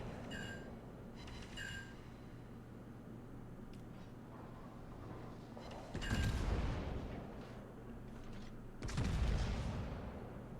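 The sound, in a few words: naval gunfire broadside in the video game World of Warships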